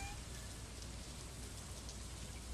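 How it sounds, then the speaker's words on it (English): Steady, even rainfall from the Stardew Valley video game, a soft continuous patter on the ground with no breaks or thunder. "So today's raining, it means I don't have to water anything"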